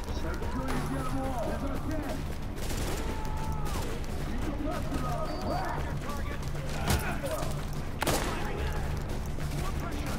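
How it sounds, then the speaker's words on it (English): Gunfire in the online shooter Tom Clancy's The Division during a Manhunt rogue match, with scattered shots and bursts over busy game sound, while a player talks throughout. "Someone just shot at me."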